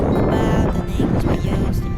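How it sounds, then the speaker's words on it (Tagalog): Strong headwind buffets the microphone while riding, in loud, gusty rumbling bursts, a rough continuous roar with brief dips, past San Luis, Bulacan. "Lakas ang hangin."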